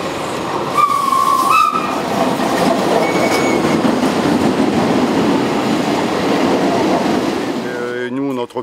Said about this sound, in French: faire rouler une rame historique avec une locomotive ancienne qui date des années 14, 1914